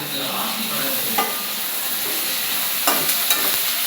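Capsicum stir-frying in a pan, a loud, steady hiss of sizzling oil with a handful of faint clicks and scrapes as it is stirred.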